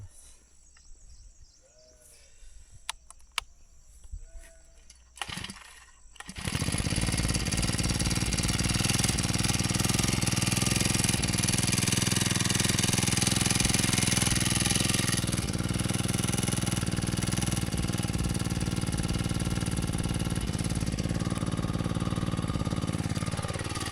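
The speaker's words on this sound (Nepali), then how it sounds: "ल अब चाहिँ म मेसिन स्टार्ट गर्छु।" A grass cutting machine in a Nepali village starts after some quiet handling noises and then runs steadily, a loud, close, continuous engine drone that holds for the rest of the clip.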